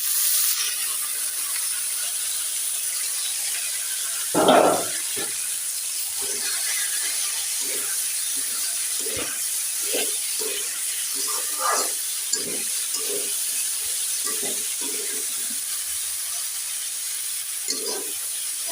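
Potatoes and fig vegetable fry in a pan with a steady soft sizzle and hiss, broken by scattered small pops and scraping stirs, one louder clatter early on, close and alone.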